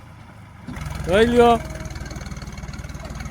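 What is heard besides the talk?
tractor loaded with sugarcane driving off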